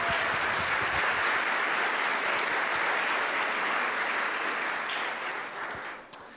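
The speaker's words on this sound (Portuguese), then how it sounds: "Uma salva de palmas para o pessoal lá do fundo" A church congregation at a worship service breaks into loud, dense applause that fills the room steadily and then tapers off near the end.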